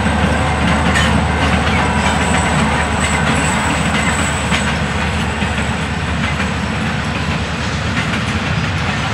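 Florida East Coast Railway freight train FEC 109 rumbles past close by, a loud continuous roar of wheels and cars with rhythmic clickety-clack on the rails throughout and no voices.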